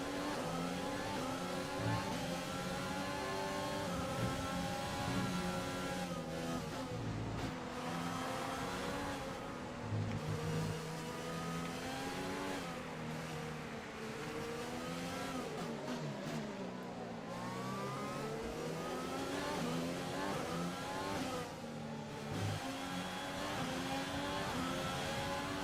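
Formula 1 race cars in the F1 2020 racing game at the Vietnam and China circuits, engines revving and shifting continuously at moderate level, pitch rising and falling through the laps.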